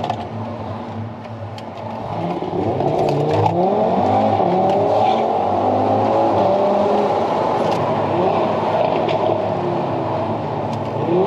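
An Audi RS3 engine revs hard and accelerates, a loud, continuous roar with rising and shifting pitch sweeps heard close from inside the car, running without pause for the whole stretch.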